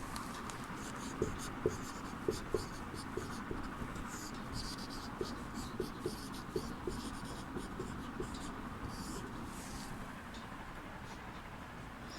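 Chalk or marker writing on a board during a Hindi lesson, faint scratchy strokes with light taps in an irregular rhythm over a quiet room hum.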